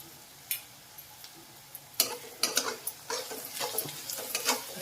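Sautéed onion with added turmeric is stirred in a pan for kartule bhaji, giving sparse spoon scrapes and taps at first, then busier stirring over a soft, close sizzle.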